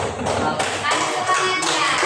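Students in a classroom applauding a group, a burst of dull taps and thuds from several hands, fairly close, with voices talking over it.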